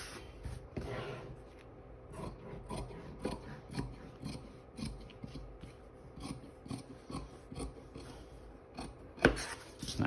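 Scissors snip through cotton lining fabric to cut a square, giving a near, irregular run of rasping cuts and rustles with a sharper snip near the end; no speech.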